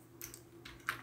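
A few quick keystrokes on a computer keyboard, faint, soft clicks in two small bursts during a short pause, with no voice over them.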